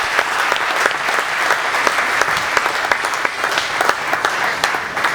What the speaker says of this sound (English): You can clap more than that for Jesus